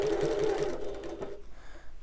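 A sewing machine runs steadily, stitching a seam in fabric beneath the presser foot, loud and continuous for over a second before dropping away to a quieter hum.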